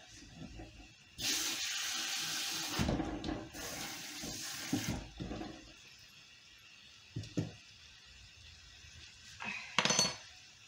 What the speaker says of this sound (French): Là, je vais me rincer les mains.